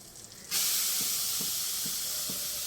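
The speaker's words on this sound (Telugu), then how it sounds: "ఈ నెయ్యిలోకి ముందుగా మనం బీట్రూట్ వేసుకుందామండి" Grated beetroot hits hot ghee in a pan with a sudden loud, sustained sizzle that holds steady, with a few faint clinks beneath it.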